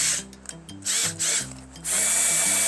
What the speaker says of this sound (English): So let's get on with the drilling portion here.